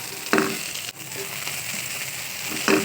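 Garlic and ginger fry in oil for a chicken curry, a constant close sizzle broken by a couple of brief stirring scrapes and clinks.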